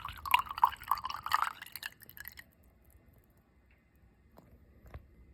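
Water gurgles and drips as a hot water radiator system fills, bubbling busily for about two seconds before dropping to near silence broken by a couple of faint drips.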